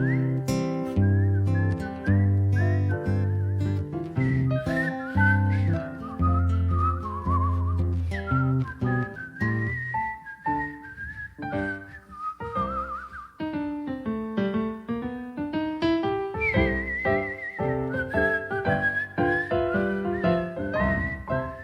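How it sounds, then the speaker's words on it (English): A musician whistles a happy song in concert over a steady guitar backing, the melody running continuously in clear, bright phrases throughout. "now we're gonna do a little whistle"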